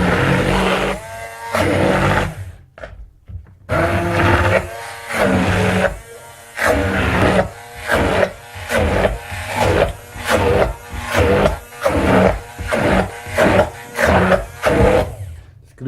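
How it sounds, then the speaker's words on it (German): A food processor purees the ingredients for a Liptauer bread spread in loud, close bursts, whirring and rattling in rhythmic pulses with short gaps between them. "die leckeren Zutaten und die werden wir jetzt richtig pürieren"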